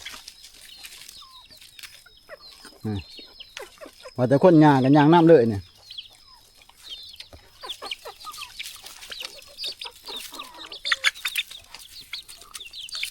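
Free-ranging chickens and ducks on a rural Thai homestead cluck intermittently, with one loud, drawn-out call standing out midway, while people talk throughout.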